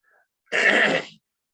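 A single short, raspy cough-like burst made by a voice imitating a cough, alone in silence.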